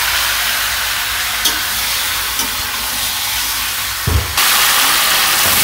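Chicken meat sizzling in a spice paste for a village-style chicken curry, a steady broadband fry hiss with a few soft stirring knocks and a louder burst of sizzle near the end.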